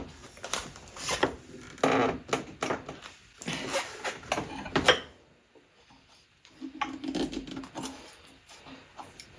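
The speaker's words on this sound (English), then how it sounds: "So I need to tighten this vise." A woodworking vise being tightened on a carcase side for dovetail cleanup, with a run of clicks, taps and rattling wooden knocks, a quiet pause, then more handling noise.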